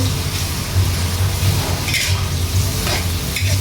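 Onions stirred in a hot frying pan while cooking mung bean stew, a steady close sizzle with scraping spatula strokes throughout, no talking.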